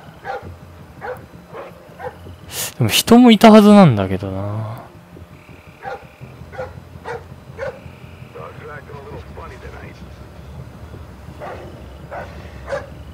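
Dog barks in the stealth game Splinter Cell: Blacklist, a short burst of loud, closely spaced barks or yelps early on, then faint repeated barks farther off under someone talking.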